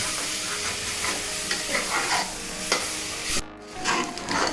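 A spoon stirs rice, spices and masalas in a pan over a low flame for prawn pulao, giving steady close scraping and sizzling with a few sharper clinks, no voices.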